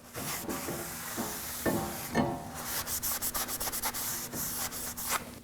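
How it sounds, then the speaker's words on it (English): A cloth wipes brake cleaner off a front brake rotor on a 2014-2020 Acura MDX, a close, steady rubbing and scrubbing that turns into quick, rhythmic strokes toward the end. "And wipe it off."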